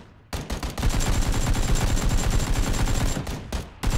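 Rapid bursts of AK rifle gunfire in the PUBG video game, loud dense automatic shots running almost continuously with a few short gaps, no talk over them.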